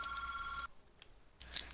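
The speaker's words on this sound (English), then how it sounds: "The phone ringing?" A telephone bell rings in a short, faint electronic trill, with one ring then a pause and a second ring beginning, heard quietly in the background.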